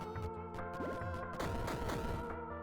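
A Thunderstorm Scroll in the game Tiny Rogues sets off a flurry of rapid, crackling explosion bursts over a game music bed, dense and overlapping for a couple of seconds.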